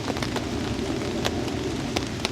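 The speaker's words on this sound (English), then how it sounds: "listen to the rain" Steady rain patters on a tarp shelter in the woods, a dense continuous hiss with occasional louder drips striking close by.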